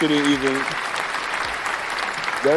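Audience applause, a short burst of crowd clapping between voices, with someone speaking at the start and again at the end.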